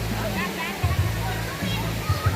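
A large stream flows with a loud, steady rushing wash close by, while people talk over it.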